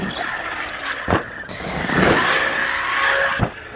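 Large ZD Racing RC car driving nearby, a steady electric motor whine with brief tire scrubs and bumps as it moves across the ground.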